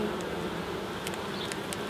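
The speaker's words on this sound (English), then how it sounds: "there's quite a few bees on them lugs" Honeybees buzz around an open hive during a UK beekeeping inspection, a soft steady hum with a few louder passes of individual bees close by.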